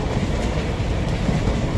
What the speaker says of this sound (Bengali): Mayurakshi first passenger পেরোচ্ছে